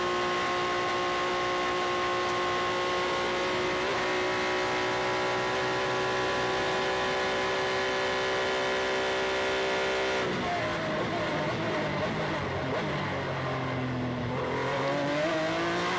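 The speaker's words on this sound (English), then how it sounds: "Down to second gear, nails the throttle coming out of the corner." A Formula 3 race car at the Macau Grand Prix holds a loud, steady high engine note near the Lisboa corner, then drops gears with a sharp pitch fall and rises again as the throttle opens out of the corner.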